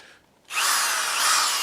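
A corded electric drill powered from an Oupes Mega2 portable power pack starts up after a brief quiet moment, then runs at a steady, loud, high-pitched whine with no one speaking.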